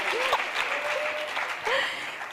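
Audience applause at a marketing industry conference in Spain, brief and moderate, with faint voices and some whistle-like tones rising above the clapping.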